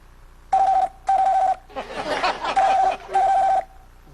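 A different telephone tone sounds in repeated short beeps, with a voice imitating it, chuckle-like vocal noises mixed in the middle.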